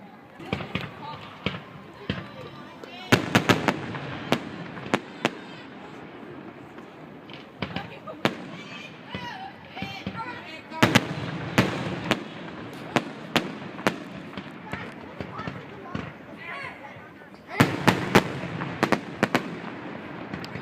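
Fireworks burst over water, sharp booming cracks and pops scattered at irregular intervals, some in dense clusters, with rumbling echoes trailing after, heard from a distance while people talk in the background.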